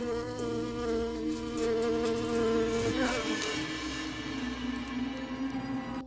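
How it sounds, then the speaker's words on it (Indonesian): A swarm of bees buzzes loudly and continuously, a dense droning hum with many overlapping wingbeat tones, in a horror film scene where the bees pour out of a man's ear. "Kawanan lebah muncul dari lubang telinga pria itu"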